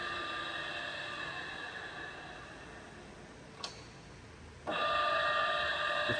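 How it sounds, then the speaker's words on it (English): Soraluce TRO-1250 radial arm drill with its spindle running, giving a steady mechanical hum with tonal whine that briefly drops, a click, then a louder, higher whine as speed rises to 180 rpm. "The spindle speed has been increased to 180 rotations per minute."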